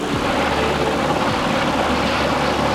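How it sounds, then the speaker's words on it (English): A Navy helicopter flying over a whale rescue at sea, its loud, steady rotor and engine roar filling the whole stretch with no speech. "A Navy chopper joins the rescue effort."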